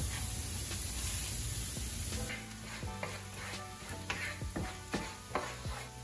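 Chopped onions frying in melted butter in a pan, a steady soft sizzle with occasional stirring scrapes and light clicks, fairly quiet and heard on its own without talk.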